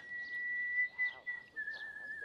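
A steady, clear whistle rings out in a 1970s film scene, one long held tone that dips slightly in pitch near the end while faint voices murmur underneath.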